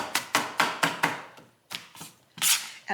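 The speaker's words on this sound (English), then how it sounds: "I just make it into smaller pieces by chopping up a little bit." Parsley stems chopped with a kitchen knife on a board for a vegetable bean miso soup, giving about ten crisp, close thumps in an uneven rhythm with brief gaps, no voices.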